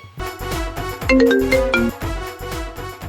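A bright electronic ringtone melody plays over a thumping, repetitive beat, the tune rising and falling in short musical phrases.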